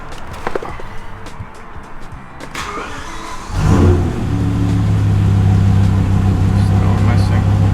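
A BMW E63 M6 with a cylinder 8 misfire cranks and fires up partway through, then settles into a loud, rough, uneven idle; clicks and handling noises come first.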